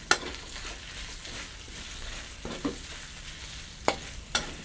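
Food sizzling in a hot wok while it is stir-fried, with a steady fry hiss and occasional sharp scrapes and clinks of a utensil.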